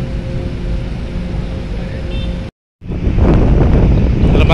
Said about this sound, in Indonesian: cuacanya anginnya kencang banget